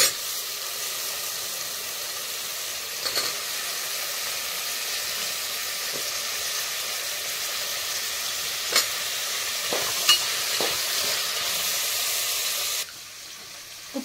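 Eggplant pieces fry in a pan with onion and a pinch of asafoetida, giving a constant close sizzle with a few soft scrapes of stirring breaking through, before the sound drops near the end.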